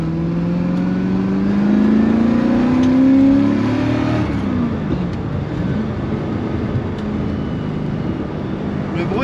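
A vintage Corvette engine revs and accelerates while driving, a loud rising growl for the first few seconds that eases into a steady rumble of road and cabin noise.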